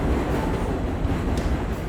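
A train rolls past nearby, a steady dense rumble of wheels on rail held at constant loudness throughout, with no voices over it.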